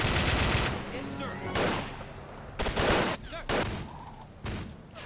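Bursts of fully automatic rifle fire in an Iraq War 2003 video game mod, several loud volleys with gaps between them, heard alongside other battle noise.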